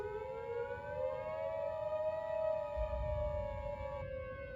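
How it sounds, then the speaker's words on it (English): A loud wailing tornado siren in the Roblox game Twisted holds a steady tone that slowly rises and swells, with a low rumble underneath and no voices. "we got the tornado sirens in Hazleton going off"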